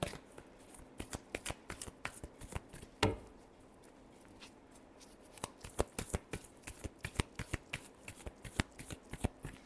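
Tarot cards are shuffled by hand in quick, crisp riffling bursts, a close series of sharp snapping flicks that stops briefly and then starts again, with no speech.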